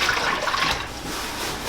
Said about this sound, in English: We're gonna dip in and then pour it into the bowl we have the chicken.